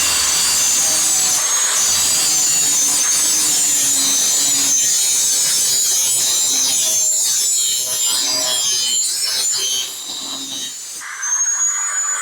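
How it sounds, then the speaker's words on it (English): Blades from a dead Poulan swamp mower being sharpened by hand, with steady close rasping and scraping strokes over faint background noise and no talk. "We're just sharpening up what we got."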